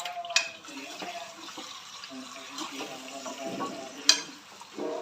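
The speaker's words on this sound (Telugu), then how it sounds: "ఇప్పుడు మంచిగా కలుపుకోవాలి." Telangana-style mutton curry is stirred in a pan with a gentle sizzle, with repeated scraping, clinking strokes of the spoon and a couple of sharper knocks against the pan.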